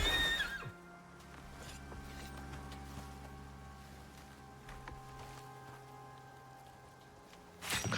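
A horse whinnies at the start in the survival game ICARUS, a short high cry, then a low steady rumble and tonal game ambience hold for several seconds before another brief burst at the end.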